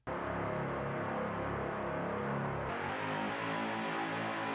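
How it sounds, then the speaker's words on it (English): Synth bass line from a long sample, the groove the whole song centres on, playing steady and full on its own for several seconds, with a dense layered tone and a shift in the low end near the end. "synth line, bass line that the whole song is really centered around"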